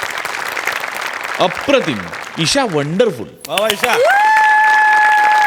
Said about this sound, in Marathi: ही सिरीज ज्याला कोणाला सुचली त्याच्याकरता एकदा टाळ्या वाजल्या पाहिजे